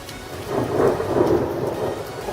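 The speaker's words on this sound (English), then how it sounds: "It's pretty rainy." Rain falling during a stormy outdoor session, a steady dense patter with a low rumbling wash underneath, fairly close and continuous with no voices.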